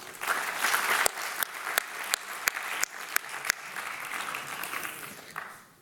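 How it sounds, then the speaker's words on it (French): A roomful of people applauding at an evening address, a dense, steady wash of clapping with a few sharper individual claps standing out, fading away toward the end. "Je souhaiterais que vous les applaudissiez aussi"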